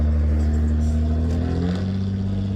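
A Mark II car engine revs through a newly fitted, very loud and raspy exhaust with a 2 1/4 inch pipe, a steady deep drone that climbs in pitch partway through, close and alone.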